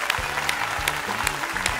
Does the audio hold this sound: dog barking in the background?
no